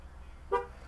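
A 2014 Chevrolet Equinox LS AWD with a 2.4L EcoTec engine gives a single short horn toot, triggered by the key fob's panic button, heard at middle distance over quiet background hiss.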